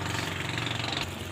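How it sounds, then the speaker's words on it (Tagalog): A motorized outrigger boat engine drones steadily out at sea, a loud, rough, continuous rumble close by with no talking. "May bangka na paparating."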